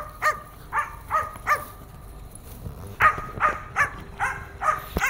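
Elvis the dog gives a series of rhythmic, yowling howl-barks on command, repeated in short bursts close to the listener, with no one talking over them.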